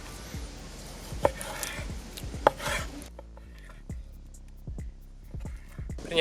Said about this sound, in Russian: И нарезаем на хорошие порционные кусочки.